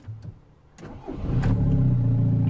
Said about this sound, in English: I'm gonna show you that the engine starts brilliantly